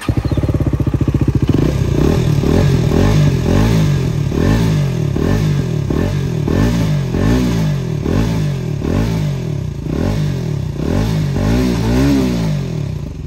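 Modified KTM Duke 250 with its dB killer pulled out, revving hard in neutral: a loud, raspy single-cylinder bark with repeated throttle blips rising and falling, close up.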